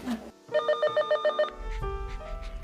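An old-style telephone bell rings in a quick rapid burst of repeated trills, then a lower tone follows as the ringing stops.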